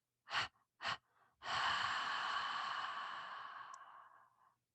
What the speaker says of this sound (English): You're going to take 5 short breaths out.